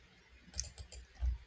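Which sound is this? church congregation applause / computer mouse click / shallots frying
computer mouse click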